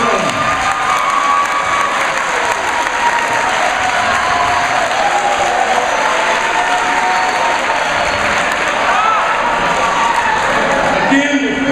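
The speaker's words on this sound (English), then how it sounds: "Let's give both of them a big round of applause." Applause and cheering from the crowd at a USA Today national championship celebration, loud and dense throughout, with scattered shouts and voices mixed into the steady clapping.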